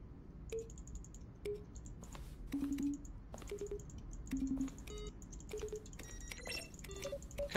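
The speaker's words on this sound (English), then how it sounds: "Each sound is a mix of a keyboard stroke and a synthesized tone." A series of short electronic button presses in The Stanley Parable, each a soft keyboard click blended with a brief synthesized beep, spaced irregularly with faint clicks between.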